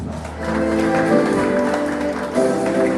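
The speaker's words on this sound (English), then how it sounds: "A warm round of applause, please." An audience claps for honored guests at a training event, a sustained, fairly loud burst of applause mixed with a tonal, humming background, and no speech over it.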